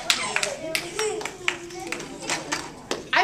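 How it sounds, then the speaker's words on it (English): Small audience clapping for a young volunteer at a science show, scattered uneven hand claps close by with a child's and presenter's voices mixed in. "She's waiting for the applause."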